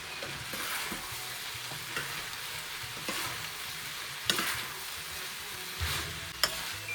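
Onions softening in a pan of oil, a soft continuous sizzle close by with occasional scraping stirs and light clinks of a utensil against the pan, no voices.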